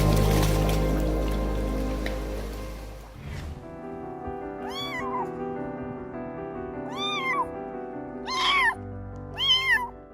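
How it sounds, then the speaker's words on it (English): A little homeless kitten cries loudly for help, four rising and falling meows spaced a few seconds apart and close to the listener, heard over soft background music that follows a louder opening passage of music. "this little homeless kitten loudly cried for help"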